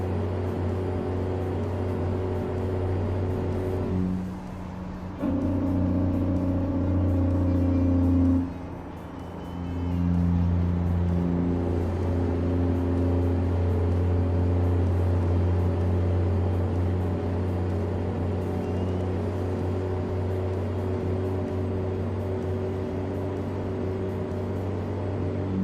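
Steady droning hum of a modded truck engine in American Truck Simulator, held at one RPM with an audible repeating loop, briefly dipping and changing tone twice before settling back to a constant rumble with no talk.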